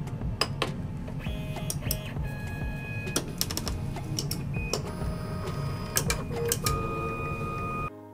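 Entina Tina 2 3D printer printing a simple box, giving steady close mechanical whirring from its stepper motors with repeated sharp clicks and brief tonal motor whines running throughout, no talk.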